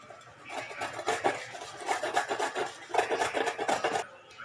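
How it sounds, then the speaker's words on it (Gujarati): A carrot being shredded on a hand grater gives steady rasping strokes in repeated bursts, close and fairly quiet, with no voices. "આપણે હવે ગાજર છીણી લેવાનું છે"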